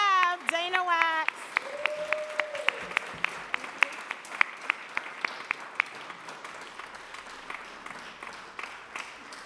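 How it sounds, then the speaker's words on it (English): A warm round of applause at a New York City Council meeting, honoring a chief of staff, follows a brief bit of talk at the start and continues as steady clapping through the rest. "if everyone could please join me in giving a warm round of applause for my chief of staff, Dana Wax"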